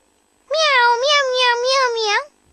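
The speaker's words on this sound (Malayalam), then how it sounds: "പൂച്ചക്കുട്ടി ഫോണിൽ സംസാരിക്കുന്നു" A cartoon kitten meows on the phone in one long, drawn-out, wavering cry lasting nearly two seconds, loud and close, with silence on either side.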